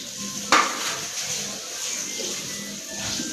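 Mustard seeds and fenugreek seeds splutter in hot oil in a pan with a steady crackling sizzle, and a sharp clink of utensil against pan near the start.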